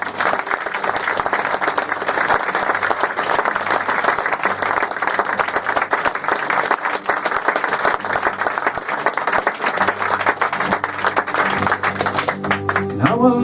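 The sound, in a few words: audience applause at a live concert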